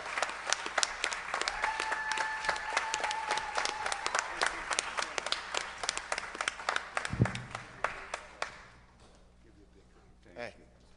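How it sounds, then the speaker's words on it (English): Audience applause at an award celebration: dense, sustained clapping from a room full of people that thins out and fades toward the end, with voices and a tonal sound running beneath. "Round of applause for Bob, who brought us all together, huh?"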